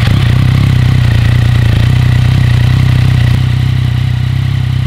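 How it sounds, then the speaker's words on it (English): A Yamaha MT-09 with an Akrapovic Racing Line titanium exhaust idles close and loud, a steady mid-pitched engine rumble with a faint mechanical clatter running unbroken throughout. "the main attraction starts back here, the Akrapovic Racing Line titanium exhaust."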